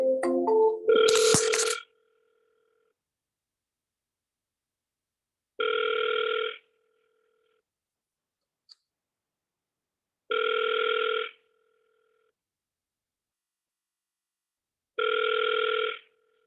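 An outgoing call on a telephone rings three times with evenly spaced double-tone bursts separated by silence, after a short clatter of handling at the start.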